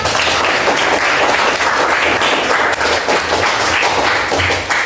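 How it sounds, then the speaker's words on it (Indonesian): A classroom of students applauds a group presentation, dense close clapping from many hands that holds steady and loud throughout. "Terima kasih buat perwakilan kelompok. Beri tepuk tangan."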